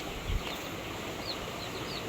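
Hens and a rooster clucking on a farm, quiet and somewhat distant, with a few soft calls over a steady background hiss.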